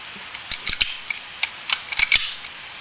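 Metallic clicks and snaps as a CZ 75 Compact pistol is cleared and handled, a handful of sharp close mechanical clacks spaced irregularly through a quiet room.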